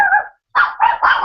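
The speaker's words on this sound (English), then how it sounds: "listening to your dogs barking" Dogs barking nearby in a home, one sharp bark, a short pause, then three quick barks in succession, loud and alone without talk.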